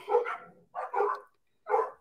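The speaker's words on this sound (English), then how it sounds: "Why are they barking?" Dogs barking at home in three short bursts, each a cluster of sharp barks with brief gaps between, fairly close and clear with no talk over them.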